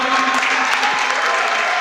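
A crowd at a futsal match in a local indoor arena applauding the Futsal Mason team, a brief steady wash of clapping that fills the space.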